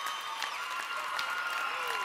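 A television dance competition studio audience roaring and applauding, a sustained wash of clapping and cheering heard at moderate distance with no pauses.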